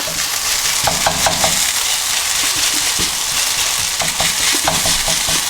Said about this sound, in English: We want to flatten out to the edges of the wok.